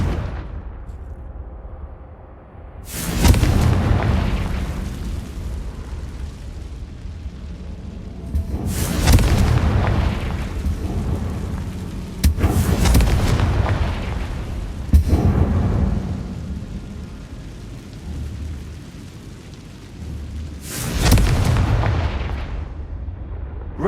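Confringo fire spells explode in Hogwarts Legacy, five heavy booming blasts spaced several seconds apart, each with a loud burst and rumbling decay over a quiet background.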